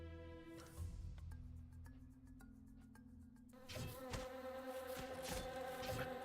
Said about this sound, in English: Or it's just going to keep spawning bees.